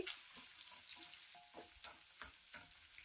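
Green chilies and curry leaves frying in oil for ava pulihora, a quiet continuous sizzle with a few soft stirring scrapes and crackles, no voices.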